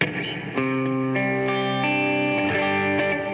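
An electric guitar plays sustained notes and chords with a washy reverb tail, each note ringing out and blending into the next.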